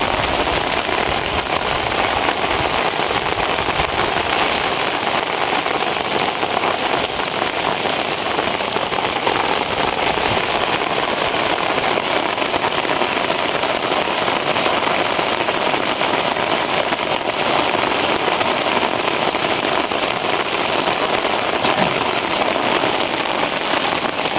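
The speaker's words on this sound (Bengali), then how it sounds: "বৃষ্টি শুরু হয়েছে ঝুমের বৃষ্টি" Heavy, steady rain pours down over an open wetland without letup, a dense hiss of drops drumming on surfaces close by, with no voices.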